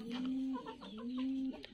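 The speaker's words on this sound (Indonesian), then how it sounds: "Oh, ini ayam doser namanya guys" A Bangkok rooster of the doser line clucks in a coop, a close, fairly quiet run of drawn-out tonal clucks and short chatter calls with no talking.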